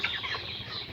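Twenty-five-day-old broiler chickens on a poultry farm cluck in a brief, soft burst of overlapping calls from a flock nearby.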